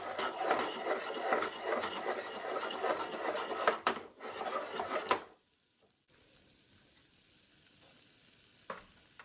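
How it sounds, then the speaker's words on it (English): Caramel swirling in a pan on the stove, a close rushing sizzle with soft scraping that surges and fades for about five seconds, then drops to near quiet with a faint low hiss. "and then you can swish the pan around."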